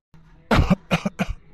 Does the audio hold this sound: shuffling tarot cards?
no